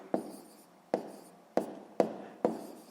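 A math solution is written out by hand in five sharp, evenly spaced strokes, each a crisp tap that fades quickly, with quiet between them.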